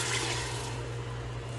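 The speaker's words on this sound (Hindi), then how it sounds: "अब मैं इसके अंदर डाल दूँगी पानी" Water pours steadily into a pot of spiced rice and dal for khichdi, a continuous rushing splash heard close up and alone.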